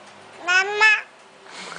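A young girl imitates a cat, making a drawn-out two-part meow that is close and clear. A soft voice follows faintly.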